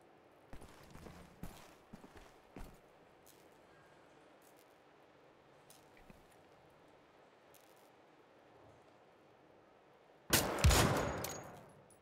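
Sniper-rifle gunshots in the shooter game Wolfenstein: The Old Blood: a few sharp shots early on, a long quiet stretch, then a loud, near blast near the end.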